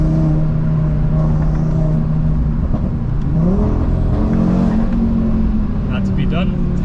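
Audi RS3 tuned to 650 bhp, its five-cylinder engine revving hard with sweeping pitch rises and falls, echoing off nearby fences, loud and close with a voice talking over it.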